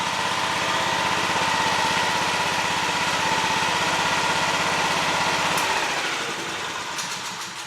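A small engine, freshly fitted with an aftermarket carburetor, runs steadily and loudly at a constant idle-like drone for most of the stretch, then drops in pitch and quiets as it winds down near the end.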